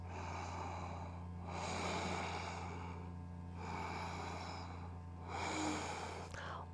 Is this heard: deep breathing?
yes